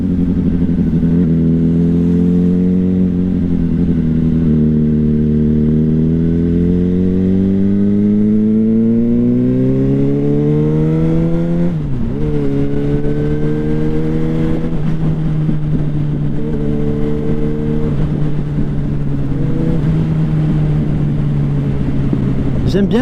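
A car driving through rain, its engine hum loud and steady throughout with pitch rising and falling as it speeds up and slows, close and continuous from inside the vehicle.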